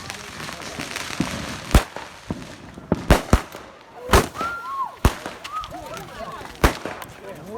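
Fireworks bursting in a video game: a string of sharp, loud bangs at irregular intervals, with crackles and whistling sparks between them and a few softer thuds mixed in.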